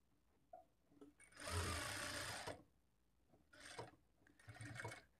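A sewing machine stitching a blouse, with short whirring runs of needle motion: a longer burst, a pause, then two shorter bursts. The sound is quiet and close.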